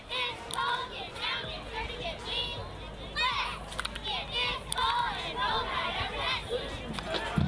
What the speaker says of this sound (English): This is a St. Luke's mini cheerleading squad getting the chance to cheer on those Wildcats during